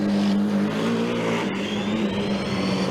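A Formula Student race car engine hums and revs at a steady pitch nearby after restarting during an endurance session, a continuous mechanical drone without talk.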